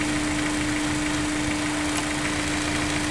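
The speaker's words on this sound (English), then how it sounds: "I want you to pay attention to what the engine sounds like" A turbocharged car engine idles with the blow-off valve's boost source line disconnected, a steady, even, close idle hum with a constant tonal whine running through it.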